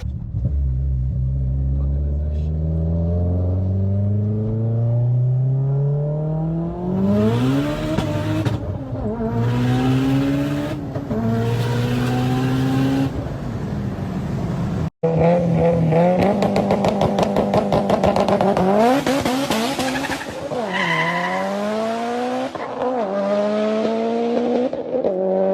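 A project car's engine revs close and loud, climbing in pitch again and again through repeated accelerations, with a rough rumble between pulls and a brief cut midway.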